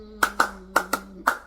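Five quick, crisp hand claps in an uneven rhythm from a church worship gathering, fairly close and clear, with no other sound between them.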